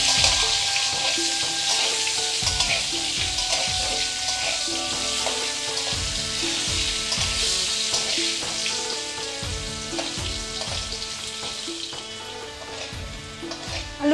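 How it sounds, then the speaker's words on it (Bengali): Potatoes seasoned with salt and turmeric frying in oil, a dense, steady bright sizzle close up with occasional low knocks and stirring sounds beneath it, no talking. "আলুটা লাল লাল করে ভেজে নেব"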